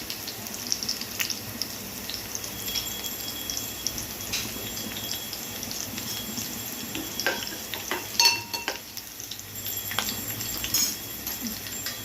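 Green chilies sautéing in a pan for a yellow potato masala dosa filling, a faint, steady sizzle with scattered utensil clicks and a brief cluster of louder scraping.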